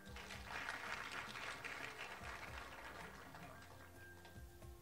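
An awards-ceremony crowd claps, a soft, dense patter that is strongest at first and slowly thins, heard faint and somewhat distant, with low murmuring and a faint background hum beneath it.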